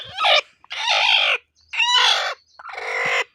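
Desi hen that has recently hatched chicks, kept in a backyard flock being treated for fowlpox, gives four loud, close, drawn-out clucking calls separated by short pauses, with no talking.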